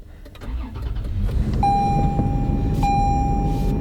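A Toyota car engine cranks and fires up, settling into a steady low idle with a continuous electronic chime tone sounding over it, close and fairly loud.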